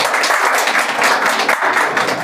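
A live audience at a Hadoti comedy show claps loudly and steadily, a dense, continuous burst of applause filling the whole moment without a break.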